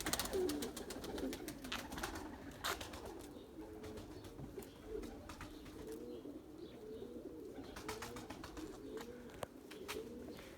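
Purebred Erzurum White pigeons coo steadily throughout, soft repeated rolling calls close by with occasional chirps and faint background noise.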